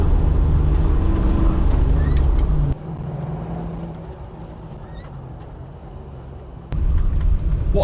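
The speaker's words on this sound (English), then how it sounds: "It's a great car to drive, and the sound is beautiful." A loud Land Rover Defender 5.3 L83 V8 petrol engine drones steadily while driving, drops to a quieter cruise for several seconds, then surges back up as the revs rise again.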